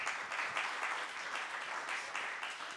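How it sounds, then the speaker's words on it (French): Steady applause from a seated audience at a talk on road-building innovation, a dense even patter of many hands clapping throughout, moderately loud with no voices over it. "je vous incite à applaudir à nouveau Sébastien et Nicolas"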